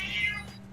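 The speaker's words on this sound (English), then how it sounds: "It's cat." A cat gives one short, close meow with a rising then falling tone over a low background hum.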